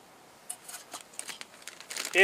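Plastic bag holding a Esbit trekking alcohol stove burner crinkles in short, close rustling bursts, ending in a louder burst.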